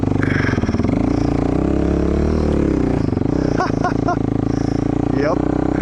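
Suzuki LT-R450 sport quad racer on Maxxis RAZR snow tires riding through snow, its engine droning steadily and close with rising and falling revs, while a person talks over it.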